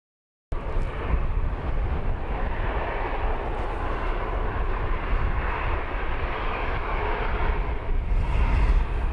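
A Wizz Air Airbus A321neo inbound to Luton from Gdansk roars steadily on approach, a loud, continuous jet drone that swells slightly toward the end, with no voices.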